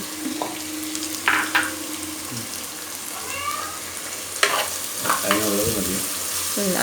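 Onions sautéing in a pan while being stirred, a bright sizzle broken by scraping spoon strokes and clinks, close by, with a few brief voice-like sounds.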